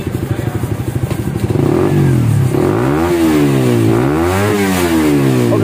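A Suzuki GSX-S motorcycle with a bored-out stock exhaust revs hard toward 13000 RPM, first a pulsing idle burble, then a loud rising scream that swoops up and down in repeated high revs, close by.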